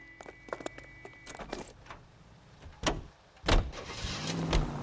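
A car in the video game L.A. Noire starts moving during a police chase, with door and handling clatter, a few sharp knocks, then an engine surging and rising, close and fairly loud with no talk.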